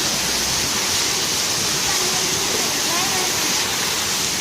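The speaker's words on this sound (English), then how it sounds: "this waterfall" Waterfall at a hillside colony pouring steadily, a loud, close, continuous broadband rush of falling water that fills the whole stretch without a break.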